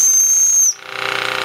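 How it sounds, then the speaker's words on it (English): A restored Jensen 5 toy steam engine gives a shrill, steady whistle at close range for under a second, then cuts to hissing steam and a quick rhythmic chuffing of the running engine. "Let's try the whistle."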